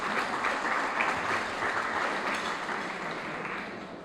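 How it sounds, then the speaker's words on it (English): A big round of applause from an audience at a lifetime achievement award ceremony honoring past honorees, dense sustained clapping across a large room that gradually fades toward the end. "please give them a big round of applause"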